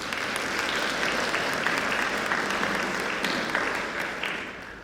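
A studio audience at a youth Sunday event claps in a full, sustained burst of applause that stays even throughout and tapers slightly at the end.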